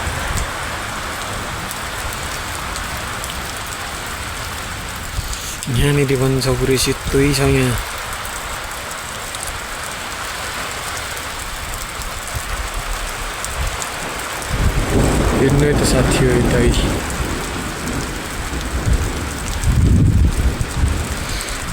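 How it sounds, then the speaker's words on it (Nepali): Large hailstones fall in cold wind in Taplejung, Nepal, making a dense, steady patter and rush throughout while someone talks over it at intervals. "असिना यत्रो ठुल्ठुलो आइरहेछ नि असिना हेरौँ"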